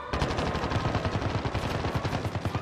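Rapid automatic gunfire in a video game, a close, loud burst of evenly spaced shots firing continuously for a few seconds without pause.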